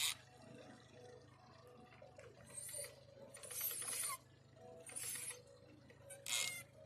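A downrigger on a trolling boat on Lake Conroe lowers bait on its tether line, giving bursts of whirring, clicking reel mechanism separated by short pauses, close by, with faint water in the background; no talk.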